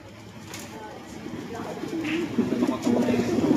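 Racing pigeons coo softly in a loft, their low, throaty calls rising toward the end under nearby talk.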